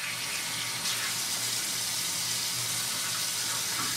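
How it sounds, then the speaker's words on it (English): Warm water runs steadily from a tap into a sink during a morning skincare routine, a continuous close hiss and splash with faint shifts as hands rinse the face. "I just kind of go back in with the hot water or the warm water to rinse."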